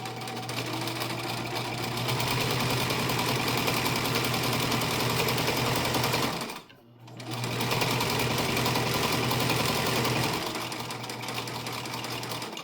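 A sewing machine stitches a zigzag seam on a cloth diaper, its steady motor whir running loud and close. The whir stops briefly at the midpoint, then starts up again.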